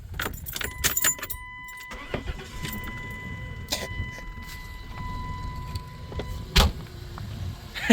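A 1997 Dodge Caravan LE with a missing plug wire cranking and firing up after sitting, with key jingles, a short starter whir, then a rough idle carrying faint uneven pops and a steady whine, close by.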